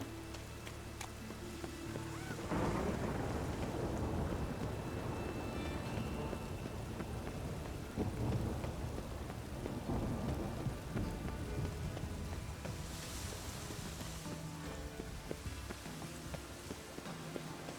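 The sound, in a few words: rain and thunder, from a video game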